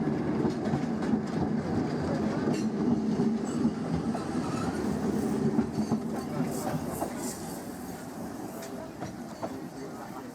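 A 0-6-0 Peckett steam locomotive built in 1944 rumbles steadily along the rails with rhythmic clickety-clack, loud and continuous throughout, with faint voices mixed into the background.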